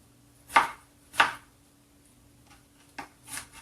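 A knife chopping strawberries into bite-sized pieces on a board, two sharp close chops followed by a few lighter cuts, with quiet pauses between them.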